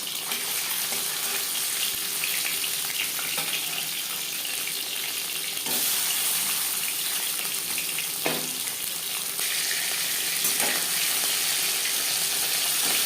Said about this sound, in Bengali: আমি এখানে হালকা করে ভেজে নিচ্ছি